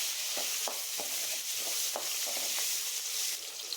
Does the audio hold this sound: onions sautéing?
yes